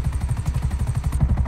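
A helicopter in GTA V Zombies gives off a rapid, rhythmic low chopping of rotor blades, steady and close throughout the short stretch.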